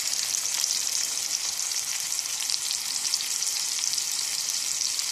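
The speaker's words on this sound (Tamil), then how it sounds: "மீன் வறுத்துடலாம்" Seer fish (vanjaram) frying in oil with a few curry leaves, a loud, dense and even crackling sizzle that holds steady throughout, close up and alone.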